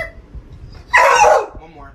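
A dog gives a single sharp, loud bark on command, close by, with quiet background before and after.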